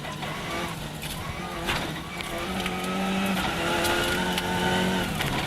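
Mitsubishi rally car at the 1995 Network Q RAC Rally, sweeping through a stage corner with a steady engine drone rising as it passes, heard from trackside amid ambient noise.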